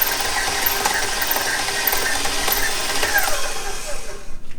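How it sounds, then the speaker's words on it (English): An electric hand mixer whirs continuously while beating butter for cookie dough, a loud, steady mechanical buzz with faint rattling that cuts off at the end. "All right, so we're gonna mix this butter."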